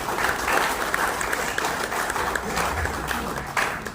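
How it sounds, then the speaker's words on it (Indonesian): Sustained applause from an audience at a community forum gathering at a sub-district office in Pluit, North Jakarta, dense steady clapping lasting throughout with faint voices mixed underneath. "Tepuk tangan buat kita bersama"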